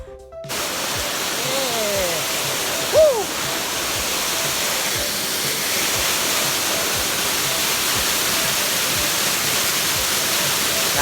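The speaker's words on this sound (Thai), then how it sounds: "พอถึงน้ำตกก็นี่เลยครับ" Krok Ma Tai waterfall rushing in a steady, dense roar that fills the whole stretch, with a brief voice or call rising briefly above it near the start.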